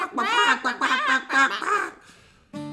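A person imitates clucking chickens with a run of voiced, warbling squawks and cackles, close and loud, before stopping abruptly.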